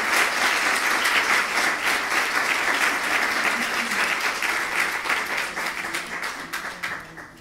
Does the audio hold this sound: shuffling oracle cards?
no